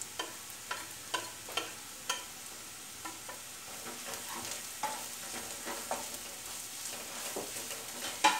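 Ground spice powders (coriander, masala, pepper and chilli) being stirred into a mutton curry masala in a pan: soft scraping stir strokes recur steadily over a gentle sizzle, close and fairly quiet, with no talking.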